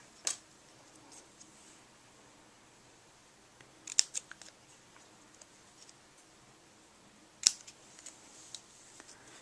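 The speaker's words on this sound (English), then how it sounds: "I'm going to use these little cutter bee scissors to cut this out." Small Cutter Bee scissors snip out a paper sentiment, giving a few sharp, close cuts in separate clusters with quiet pauses between them.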